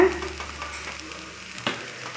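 A spoon stirs idli kaima, a spiced egg and leftover idli scramble, in a pan as pepper powder is mixed in, giving a soft steady scraping with faint sizzling and one sharper knock near the end.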